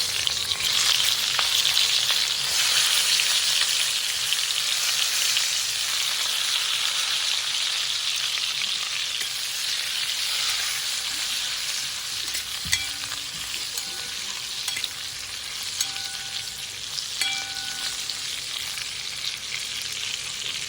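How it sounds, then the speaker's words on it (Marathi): Masala-stuffed brinjals frying in hot oil with cumin and red chilli powder, a loud continuous sizzle and hiss with scattered spatter and stirring clicks, no voices. "याच्यामध्ये आता थोडेसे आपण जिरे टाकून घेऊया आणि लाल मिरची पावडर टाकून घेऊया आणि हे मसाले भरलेले वांगे टाकून घेऊया"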